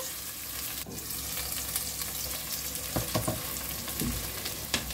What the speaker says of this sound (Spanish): A continuación vamos a echarle los dos ajos y lo vamos a saltear durante un par de minutos.